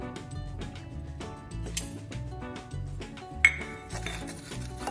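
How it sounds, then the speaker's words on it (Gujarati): A spoon clinks and scrapes against a bowl while powdered sugar and oil are mixed, light rhythmic taps and knocks close up, with music playing underneath. "એમાં આપણે આ તેલ લઈને મિક્સ કરી દઈએ"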